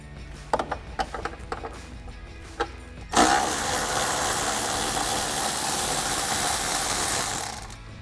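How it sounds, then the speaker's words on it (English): An electric ratchet with a 10mm socket removes bolts from the fender flare area of a Jeep Gladiator JT. A few scattered clicks come first, then a loud, steady, close mechanical whirring runs for several seconds before cutting off. "to remove those, I'm using a 10mm socket and my electric ratchet"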